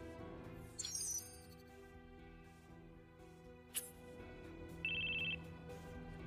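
An old-style telephone rings inside a video game set in an earlier era, with short bursts of ringing, including a sustained electronic tone near the end, playing faintly over a soft, steady game background.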